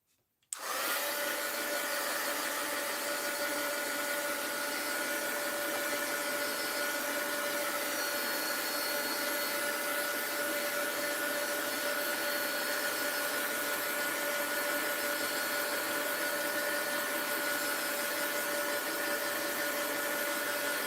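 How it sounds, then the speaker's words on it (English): A heat gun blows over a mixed-media art journal page, switching on abruptly and then holding a loud, steady whooshing whine with a constant tone for about twenty seconds. "let's hit this with the heat gun"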